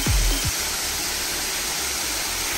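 Marachuvadu waterfall pours in a dense, constant roar close by, loud and unbroken, with a brief low thump at the very start.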